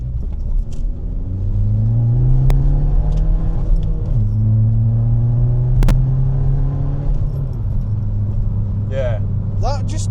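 Skoda Fabia vRS with a 1.9 TDI diesel heard from inside while driving, a loud low engine drone rising and falling with gear changes, a few clicks and jingles, and people talking over it.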